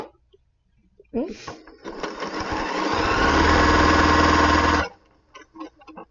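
A sewing machine stitching a quilt block seam runs in one loud, steady burst of a few seconds, close by, with brief handling clicks before and after.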